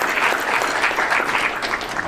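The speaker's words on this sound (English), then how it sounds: "round of applause for Betty and her team for convening everyone today" Steady applause from a conference audience at a morning plenary in Pittsburgh, dense continuous clapping at even loudness throughout, with no voices over it.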